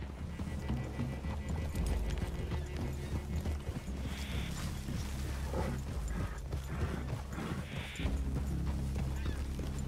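Horses walking in Red Dead Redemption 2, a steady clip-clop of hooves on soft ground with saddle creaks and a brief snort or whinny over a low ambient bed.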